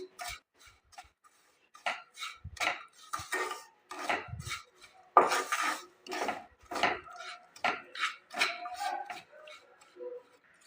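A spoon stirs sugar into a gujiya (jon pitha) filling in a bowl, giving a run of close scraping and clinking strokes in an uneven rhythm, with no talk.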